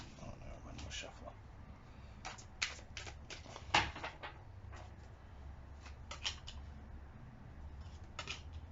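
Tarot cards being shuffled by hand, heard as a quiet series of soft, papery riffling bursts at an uneven pace, close by in an otherwise calm room.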